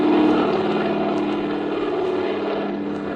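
A propeller airplane's engine drones steadily as the plane banks over a bay in a radio drama effect, an even, close hum that fades slightly toward the end with no voices over it.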